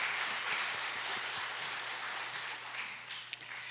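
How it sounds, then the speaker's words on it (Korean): Congregation in a church applauds after a worship song, a soft, even wash of clapping that gradually thins out, with a steady low hum beneath and one sharp clap near the end. "하나님께 영광의 박수 올려드리겠습니다."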